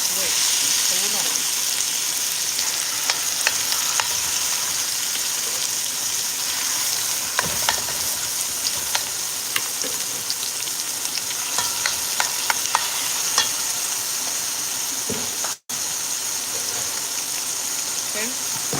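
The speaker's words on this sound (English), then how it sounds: "I'm going to go ahead and start adding in my ground chicken" Ground chicken fries in a pan for homemade lasagna, giving a steady close sizzle with repeated scraping stirs throughout and a brief break near the end.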